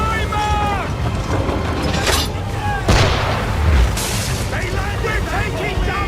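Swivel guns fire from a ship in Assassin's Creed 3 amid constant loud naval battle noise, with deep booms and rumbling impacts, and creaking mechanical sounds under shouted voices.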